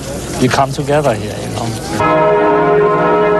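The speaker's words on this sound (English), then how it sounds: "at a tiny church on the outskirts of East Berlin, a bell rang that had been silenced by the Cold War for 28 years" A church bell rings out at a tiny church on the outskirts of East Berlin, its steady sustained tolling taking over after a man's spoken words and ringing loud and alone.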